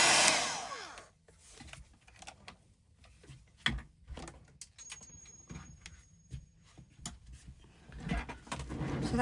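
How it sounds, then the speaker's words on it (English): A heat tool blows steadily to dry clear stamping ink on a stamped card, a faint, continuous airy whir with scattered small knocks and clicks at close range. "So I'm just going to pause while I heat dry."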